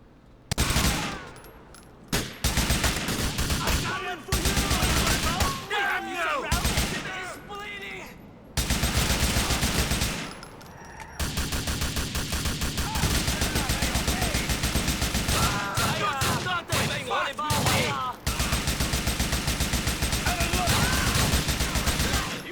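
AK-47 assault rifle fire in GTA 4, loud repeated bursts of automatic gunfire with brief pauses across the whole stretch, a voice talking over parts of it.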